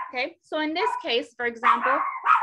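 A dog gives several sharp, close barks and yips, interleaved with and partly under a person talking.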